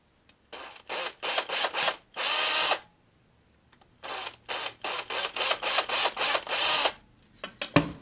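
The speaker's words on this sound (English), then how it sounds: "and drill some holes." A small drill bores holes into an Xbox controller's plastic shell in short whirring bursts, close and loud, separated by brief silent pauses, with a longer run midway and a final few quick bursts.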